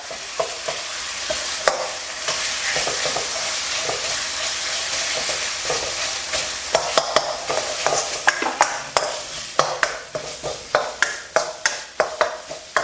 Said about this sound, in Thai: พริกแกงเผ็ดครับ 3 ช้อนโต๊ะ ผัดให้เข้ากันก่อนนะครับ